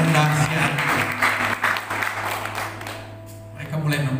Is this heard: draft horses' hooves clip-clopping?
no